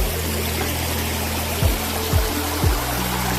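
Continuous broadband rush of water flowing over a broken weir beside a sluice gate, steady and fairly loud, with a low hum and a few brief thumps underneath.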